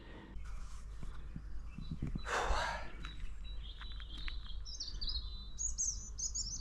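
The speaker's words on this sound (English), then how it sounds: "Just drown yourself in the birdsong." Birds sing along the Prees Branch of the Llangollen Canal. Bright chirps and short trilling phrases grow in the second half over a quiet outdoor hush, after a few soft footstep-like thumps and a brief rustle.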